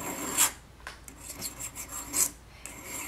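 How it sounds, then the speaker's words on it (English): A polymer-clay tissue blade is rubbed at an angle against a ceramic mug, making a series of short, rasping scrapes in an uneven rhythm, close and fairly loud, with no talking. "you basically rub your blade at an angle against the mug"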